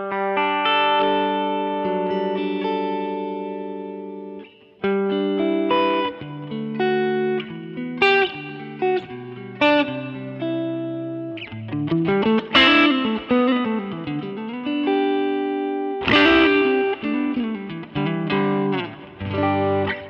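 Electric guitar played through an HX Stomp using the Lone Star amp model set as a boogie tone, with chords and single-note lines ringing out alone, moderately driven with a touch of reverb.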